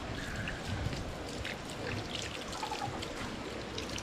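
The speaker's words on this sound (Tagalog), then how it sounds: "Hugasan kamay ko." Water poured over hands for washing outdoors in a rural yard, a soft, faint, continuous trickle and splash with small irregular drips.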